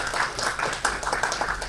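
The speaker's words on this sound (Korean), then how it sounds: "발표해 주신 우리 김수환 이사님께 다시 한번 감사의 박수를 부탁드리겠습니다" An audience at a conference on building Jeju's space industry applauds a presenter, a scattered run of claps with sharp individual hits rising over a moderate, uneven background.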